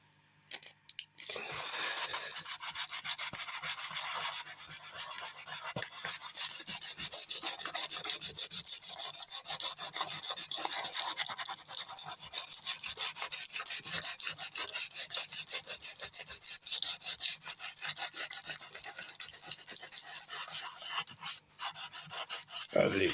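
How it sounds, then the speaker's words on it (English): Heavy sandpaper scraping along the wooden furniture of a Cybergun AK47 CO2 air rifle: continuous, close, gritty rasping strokes lasting about twenty seconds with a brief pause near the end. "it's quite heavy sandpaper"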